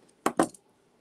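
Two quick metallic snips from cutters trimming off excess jewelry wire during necklace and earring making, close and crisp with a brief pause between them, then quiet.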